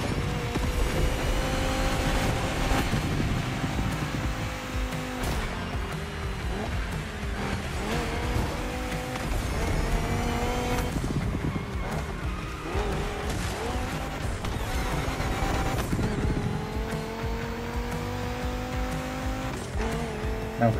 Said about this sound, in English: Which is this rally car.